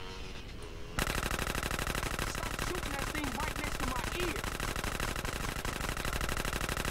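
Rapid automatic gunfire in GTA San Andreas, loud and close, bursting in after a quiet second and then hammering almost nonstop, with voices faintly mixed in.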